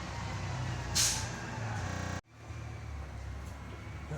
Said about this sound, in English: Now, I've got a garbage truck coming, so it's going to get loud here in a moment.